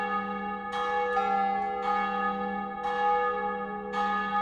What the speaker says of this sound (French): les cloches de la petite église nichée au bout de la rue se mirent à sonner à toute volée